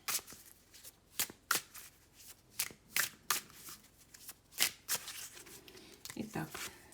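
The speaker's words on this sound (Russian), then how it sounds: "Итак, пока выкладываю карты" Tarot cards being handled and laid out during a reading, sharp papery snaps and slaps of cards set down one after another in an irregular rhythm, close and crisp, while someone talks throughout.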